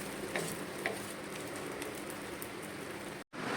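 A ragi (finger millet) dosa sizzles on a hot pan as it is flipped, giving a steady, close frying hiss with a few faint crackles and a brief cutout near the end.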